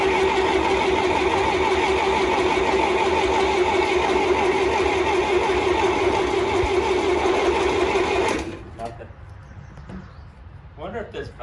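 A John Deere model 2020 tractor engine runs loud and steady with a dense mechanical clatter for about eight seconds, then cuts off abruptly, leaving faint knocks and clicks.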